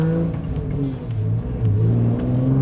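A 2007 Nissan Z33 Fairlady Z 350 accelerates with a steady, close engine note that rises and falls in pitch as it builds speed. It is fitted with an aftermarket clutch, and no one talks.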